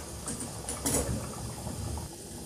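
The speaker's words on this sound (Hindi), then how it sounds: "चलिए इसमें उबाल आना शुरू हो गया।" Water in a cooking pot for veg tahari coming to a boil, giving a steady, close bubbling hiss that swells briefly partway through.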